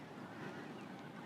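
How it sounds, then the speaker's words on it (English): Geese and curlews call faintly in the background at a peaceful seaside spot, a soft distant wash of bird calls under steady outdoor ambience. "Hopefully you can hear all the geese in the background and the curlews"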